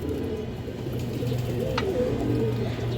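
Pigeons cooing in a coop of coloured fancy breeds, including two males, with repeated low, throaty coos overlapping continuously at close range.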